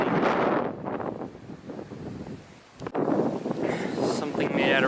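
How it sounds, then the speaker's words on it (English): Strong wind on a Mexican beach buffets the microphone in loud, gusting roars that ease briefly and then surge back, with surf-like rumble underneath. "Super windy."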